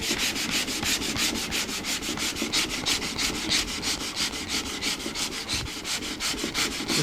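Wood body of a 1964-style Gibson ES-335 guitar replica being sanded by hand in a workshop, a steady rhythmic rasp of back-and-forth strokes, close and continuous with no talking.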